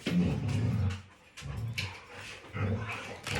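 A dog pants and whimpers close by in several short, breathy bursts separated by brief pauses, with no speech.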